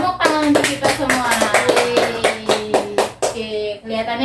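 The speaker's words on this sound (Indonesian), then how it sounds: "tepuk tangan untuk kita semua" Children in a grade 4 classroom clapping in a quick rhythmic pattern of sharp, close claps, with voices chanting along over the beat.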